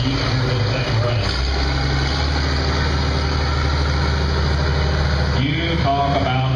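A four-cylinder antique tractor engine idles steadily nearby with a low, even rumble and chugging beat that stays constant throughout.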